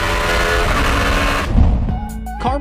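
Czinger 21 hybrid supercar driving at speed, a loud sustained engine roar that drops away after a pass, followed by rising high-pitched whine and tire noise.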